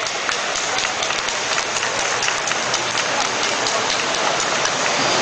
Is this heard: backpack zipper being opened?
no